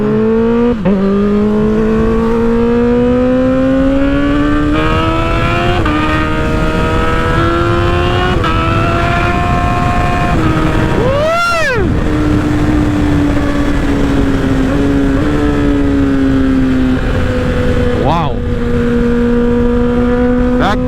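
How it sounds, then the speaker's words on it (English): A Honda CBR1000RR motorcycle engine drones loud and close, its pitch rising and falling with throttle changes, while a vehicle passes by with a quick swelling whoosh. "That quick throttle response is on point."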